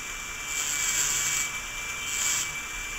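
A grinding wheel carves a stone rune, producing a continuous abrasive whir with a steady high tone that swells and eases twice as pressure changes, close and without talk.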